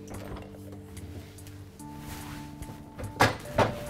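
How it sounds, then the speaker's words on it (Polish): A covered bowl of bread dough is put into the fridge, with a steady refrigerator-like hum underneath. Two soft thunks mark the bowl being set down and the door closing. "przykrywamy i wkładamy do lodówki"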